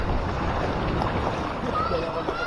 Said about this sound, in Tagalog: Grabe yung agos, oh.